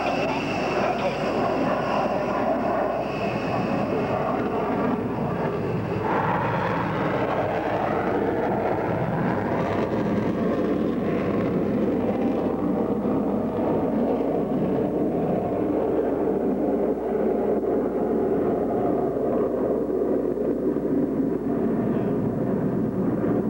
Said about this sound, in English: The B-1B on the takeoff.